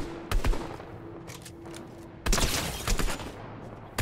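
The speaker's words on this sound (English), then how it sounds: "hard to shoot with a sniper" Sniper rifle fire in a video game: a few sharp, close shots and short bursts, separated by quieter gaps.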